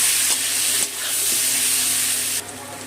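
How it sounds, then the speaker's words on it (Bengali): Onion frying in oil with salt and turmeric, a loud close bright hiss of sizzling that dips briefly as it is stirred, then carries on steadily before softening at the end. "নুন হলুদ দিয়ে পেঁয়াজ দিয়ে দিলাম পেঁয়াজটা ভেজে দেবো"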